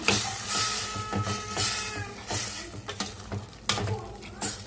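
Spoon scraping and stirring gongura chicken curry with salt and turmeric in a pan, repeated rhythmic scrapes over a low sizzle, close and moderately loud with no speech.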